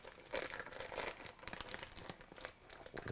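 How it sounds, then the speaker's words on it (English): A plastic package of one pound of sausage is cut and pulled open in a kitchen while making chili, producing close, quiet crinkling and tearing rustles in short bursts, with no talk. "cut that package right open."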